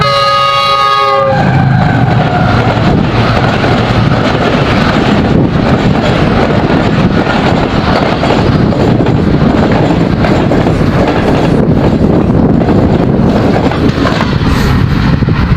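A train, Millat Express or Karakoram Express, rumbles past close by, loud and steady, with a brief horn blast at the start and wind buffeting the microphone throughout.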